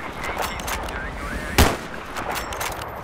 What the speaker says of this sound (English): Oh god, someone's shooting me.